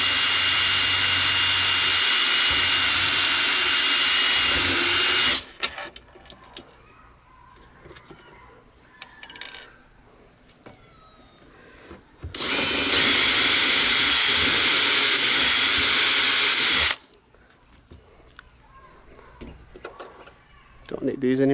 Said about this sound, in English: Drill straight down.